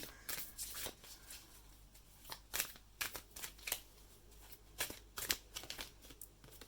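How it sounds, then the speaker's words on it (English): A deck of cards being shuffled up close, with quick riffling bursts repeating every second or so and brief pauses between them. "I'm going to save that until I shuffle that deck."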